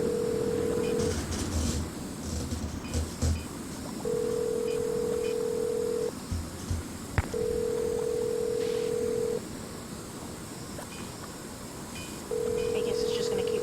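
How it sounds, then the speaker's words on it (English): A telephone rings in the Nancy Drew video game: a steady electronic tone repeats in long bursts with short pauses between them, while a person talks quietly underneath. "I guess it's just gonna keep ringing."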